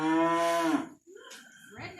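A beef cow that has just calved lets out a loud, close moo with a strong harmonic tone that fades after about a second. Faint voices and rustling follow.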